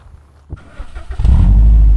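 A Subaru WRX Prodrive with its special back box exhaust starts quietly, then revs up into a loud, deep, throaty roar close by, the exhaust note swelling and holding strong at the end.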